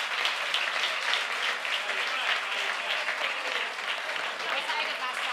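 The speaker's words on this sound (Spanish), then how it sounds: "Un fuerte aplauso para Juan, por favor." Sustained applause from an audience at the Badajoz book fair, a dense, steady wash of clapping filling the whole stretch at even loudness with no gaps.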